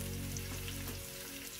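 Chopped garlic hits a frying pan with onion already cooking, giving a steady close sizzle and crackle that continues throughout.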